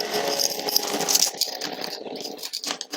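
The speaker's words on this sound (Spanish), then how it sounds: "truco para sacar este formador de junta de aquí, es con una mecha o con una broca" A drill bit scrapes hardened gasket sealant from the oil pump housing of a Ford 1.8 TDCi engine, making close, uneven grinding and rattling bursts with small metallic clicks.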